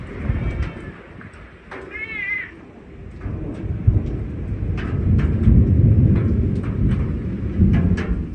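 Thunderstorm rain pours down steadily over a garden in Zonguldak, a dense, rumbling wash of noise that swells and rolls throughout, with a cat meowing briefly near the start.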